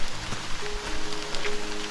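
Light rain pattering steadily on leaves and ground in a forest campsite after a heavy downpour, a soft continuous hiss with scattered close drops, no talking.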